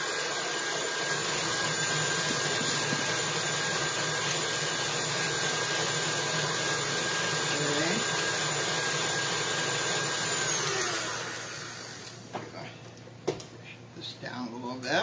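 An electric mixer creams cream cheese for orange cream cheese bread, giving a loud, steady whirring drone that runs for about eleven seconds before cutting off, followed by a few light clinks.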